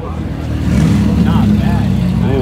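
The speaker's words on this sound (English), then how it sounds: "they're all leaving. Cold starts." Exotic cars, including an Audi R8 and Lamborghinis, cold starting and revving as they pull out of a car meet: loud engine rumble rising into revs, with rising and falling tones as cars pass, under people talking nearby.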